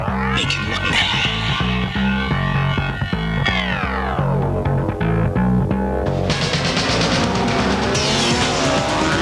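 Superbike race start with a crash right on the start line, heard as a loud, continuous roar of engines revving and shifting pitch, with rising and falling tones from several bikes close by.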